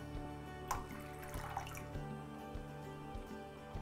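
A leaky faucet drips water at a steady, regular rhythm, each small drop landing softly and clearly against a quiet background with no one speaking.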